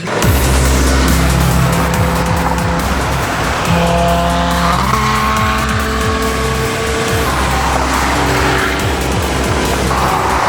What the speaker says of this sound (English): Full throttle, RS6 Performance, it's tuned.